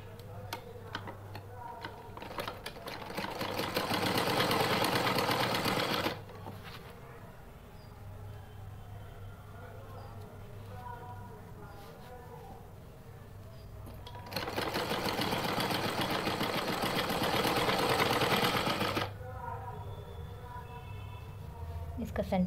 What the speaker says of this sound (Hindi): दोबारा से हम सिलाई मारते हुए आएंगे इस पे।